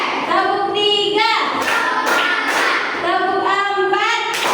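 A teacher and children in a classroom chant a counting rhythm, with a few sharp, roomy bursts of group hand clapping between the spoken lines.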